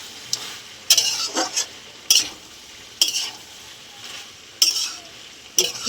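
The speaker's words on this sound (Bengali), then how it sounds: "দুটো টমেটো দিয়ে দিলাম। ভালো করে একটু নেড়ে নেবো।" Two tomatoes being stirred in a frying pan while cooking pui shak greens with jackfruit seeds and papaya, giving sharp intermittent scrapes and clatters about once a second over a soft background sizzle, close and fairly loud.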